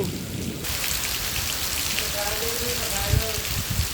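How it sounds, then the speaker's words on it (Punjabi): Heavy monsoon rain in Rajasthan pours down steadily in a dense, continuous hiss, with a few faint voices briefly audible beneath the downpour. "ਦੇਖ ਕਿੰਨਾ ਮੀਂਹ"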